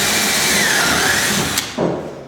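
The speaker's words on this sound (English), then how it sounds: "Then your bottom one, these are the 2 important ones." Power drill with an auger bit boring into a door for a mortice lock, a steady close whine and grind that wavers slightly, then stops abruptly with a short clatter at the end.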